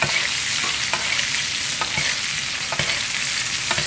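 Steak sears in butter in a pan, a dense constant sizzle and crackle up close with faint periodic ticks, no voices.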